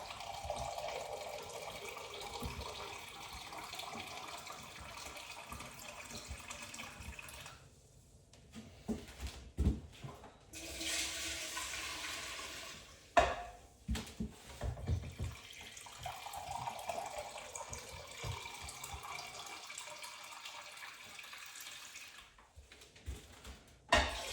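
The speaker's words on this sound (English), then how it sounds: "And we'll fill our still up to 4 litres." Tap water running into an Air Still Pro still being filled to 4 litres at a sink, a steady trickle and splash that stops briefly and starts again, fairly quiet and close.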